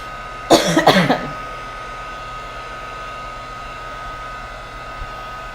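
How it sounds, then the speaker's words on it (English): A heat gun blows over paint in an art journal, making a steady whirring hiss with a constant hum that lasts throughout. A short cough-like burst comes near the start. "I'm using a heat gun just to kind of speed up the drying process for me"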